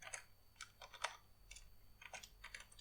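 Computer keyboard being typed on in short bursts of quick, light key clicks, faint and close, with brief pauses between groups of keystrokes.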